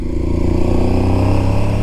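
An Aprilia Tuareg 660 motorcycle accelerates with a loud, steady, boomy airbox drone. The engine note is close and dominant, with no talk over it.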